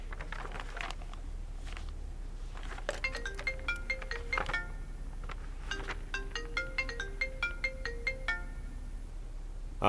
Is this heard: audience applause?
no